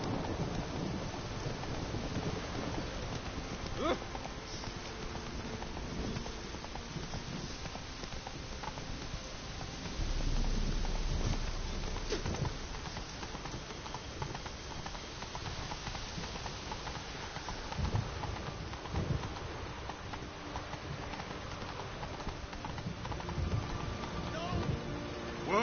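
Roach, a horse in the video game The Witcher 3: Wild Hunt, gallops with a rhythmic clip-clop of hooves amid rain and rumbling thunder, with occasional game speech and sounds layered over the hoofbeats.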